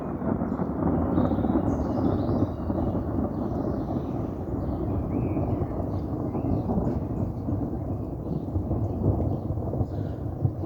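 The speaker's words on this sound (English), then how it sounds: "That's a clap of thunder." A deep, rolling rumble of thunder fills the scene, steady and broad, with faint patter of light rain in the background and no voices.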